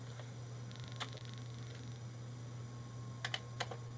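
Keys on a retro computer keyboard clack in a few short bursts of typing over a steady low electrical hum, close and fairly quiet.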